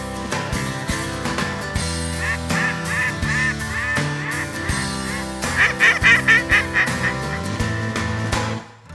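Hunters call ducks on a lake: a run of quacking and honking calls goes on throughout, with a quick burst of loud, rhythmic quacks near the end, close by and with no talking.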